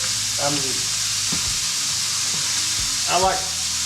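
Venison backstrap tenderloin searing in a hot pan, a steady close sizzle and crackle of frying meat running throughout, with someone speaking briefly over it a couple of times.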